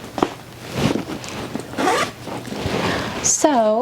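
A zipper on the back pocket of a Josefina diaper bag is pulled in several quick rasping strokes up close, amid handling noise and a brief squeak at the end.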